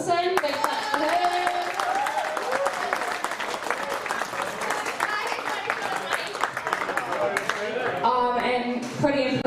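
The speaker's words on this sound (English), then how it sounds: "Big clap for her." Audience clapping at a tournament prize announcement, a steady round of many hands applauding throughout with a voice speaking over it near the end.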